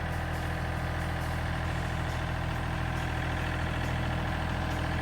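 A tractor engine idles steadily while it pulls on a tree being felled, a continuous loud low rumble with no voices over it.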